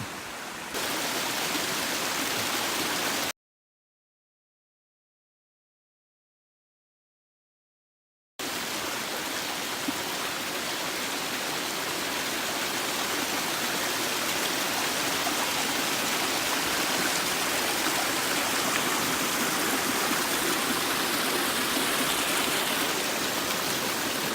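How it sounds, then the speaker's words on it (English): A steady rush of flowing creek water by a footbridge on a forested hiking trail, loud and continuous broadband noise with a brief dropout partway through, no voices. "know if this is the creek or not, but it's good flowing water and a bridge."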